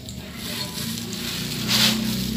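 A small kitchen blender grinds dried cassava chips (gaplek) into flour, a steady loud whirring roar with gritty rattling that swells slightly toward the end, with no talking.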